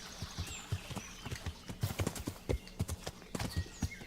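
Steady clip-clop of horse hooves in the video game Kingdom Come: Deliverance, a brisk even rhythm of hard knocks on the ground, close and clear, with faint ambient tones behind.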